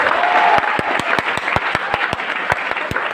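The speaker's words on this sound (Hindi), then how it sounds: "तो एक बार पूरी जोश और जुनून के साथ तालियां बजा के दिखा दी जाएगी।" An audience claps steadily in rhythmic unison, loud sharp claps with a broader crowd applause beneath.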